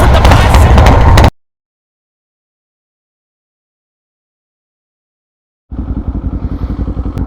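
Kawasaki Z400 motorcycle engine, loud and close at first, then cutting out abruptly into total silence for several seconds before a quieter, pulsing engine rumble returns near the end.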